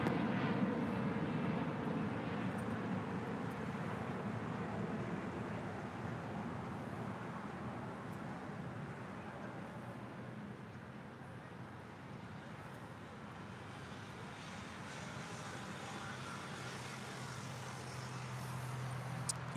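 Distant jet rumble from a Boeing 787 Dreamliner taxiing and turning onto a taxiway at LAX, a steady low broadband drone that fades slightly midway and swells again near the end.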